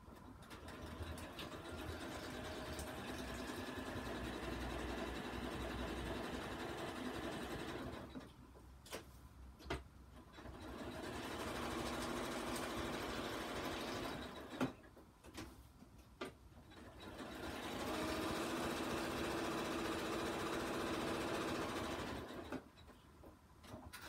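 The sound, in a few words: sewing machine zigzag stitching around a playing card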